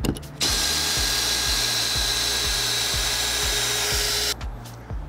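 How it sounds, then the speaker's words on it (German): A cordless screwdriver fitted with a Torx 20 bit backs screws out of composite (BPC) decking boards on a pool terrace, a steady close whirring drone with regular ratcheting clicks, stopping abruptly after about four seconds. "aber mit dem Akkuschrauber geht es deutlich einfacher"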